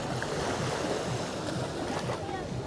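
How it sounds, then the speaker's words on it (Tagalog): Strong ocean waves at high tide on White Beach, Boracay, a loud, continuous wash of surf with broad breaking swells, mixed with wind buffeting the microphone. "Oh, tsaka lakas ng alon."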